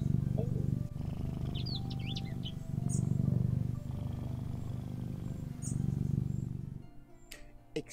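Cat purring as a low, steady rumble in repeated swells, with small birds chirping faintly in the background at dawn and a few sharper calls near the end.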